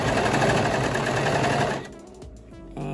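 A serger overlock machine runs a fabric seam for kids' shorts, a dense, loud mechanical whir with a steady rapid stitching rhythm that stops after about two seconds, leaving a quieter hum of the idle surroundings.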